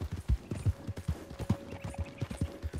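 A horse in Red Dead Online trots along, its hooves clip-clopping in a quick regular pattern, near and clear, with no talking over it.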